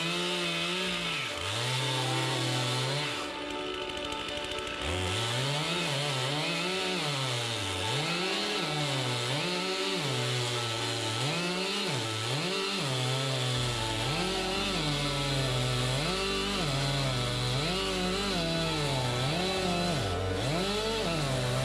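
A Stihl MS362 chainsaw with a freshly sharpened chain cuts a log, its engine loud and close, rising and falling in repeated revving surges as it bites into the wood and then holding a steadier pitch.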